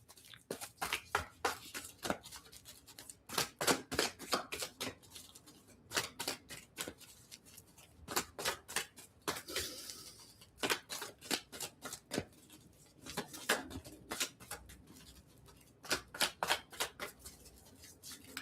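Tarot cards riffled and bridged over and over in quick bursts of crisp flutter, close and clear, with short pauses between shuffles and no talking.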